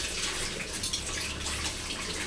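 Pumped water pours steadily into a household storage tank, a dense continuous rushing splash that stays close and even throughout, with no voices.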